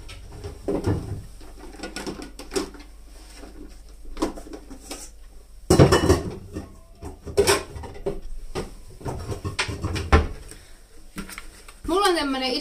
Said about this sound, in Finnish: nyt kun mä kaivan mun ison astian vielä täältä